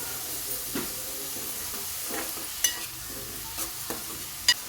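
Chopped onion pieces frying in oil with green chillies and a pinch of salt for a potato and drumstick curry, a soft steady sizzle with occasional louder crackles and stirring knocks, close and unaccompanied by speech.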